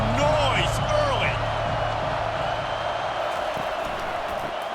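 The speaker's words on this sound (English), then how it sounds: "This crowd bringing the energy and noise early." Roaring stadium crowd in NCAA College Football 25, a dense continuous wash of cheering noise with voices talking over it.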